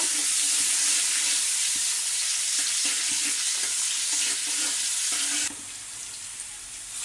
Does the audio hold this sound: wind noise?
no